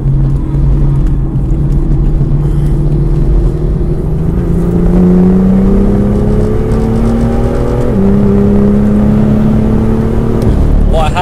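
A BMW M2 GTS race car with methanol injection on track, its engine droning loudly and steadily as it climbs through the revs and shifts gears, heard close from inside the car while a voice talks over it.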